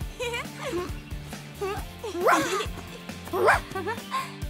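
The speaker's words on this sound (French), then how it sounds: "j'organise une fête canine pour Praline, ainsi que tous ses amis chiens" Several dogs barking, yipping and whimpering at an outdoor dog party in a park, short excited yaps close by in irregular bursts over steady background sound.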